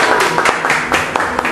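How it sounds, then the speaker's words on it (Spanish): Brief crowd applause, steady clapping from many hands with a few sharper claps standing out. "Un aplauso para Maricela Rincón"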